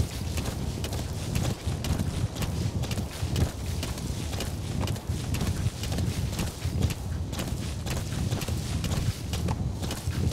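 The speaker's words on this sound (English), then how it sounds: "Esse cavalo aqui é ninja pra andar nessas pedras" In Metal Gear Solid V, a horse walks and trots over stones, its hooves clopping in a steady, continuous rhythm with a thick low rumble underneath.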